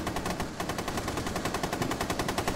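Rapid automatic gunfire in the video game Rainbow Six Siege, a dense sustained burst of evenly spaced shots hammering continuously throughout.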